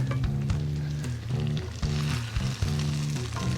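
Pork ribs fry in a pan set just below high heat, giving a steady, close sizzle with a low humming tone running underneath throughout.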